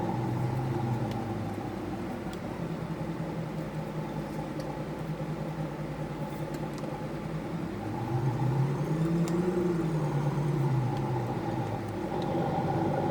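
A 1990s Ford F-150 pickup tows a trailer loaded with 22 hay bales along a rural road, its engine a steady low rumble that swells in pitch and loudness for a few seconds partway through.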